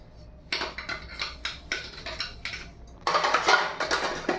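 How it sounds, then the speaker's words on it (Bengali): Dishes and bottles being washed by hand in a home kitchen, with repeated clinks and clatters of utensils and vessels knocking together in irregular bursts, close and fairly loud, with water splashing more heavily near the end. "এই কটা বাসন ধুলাম, বোতল ধুলাম"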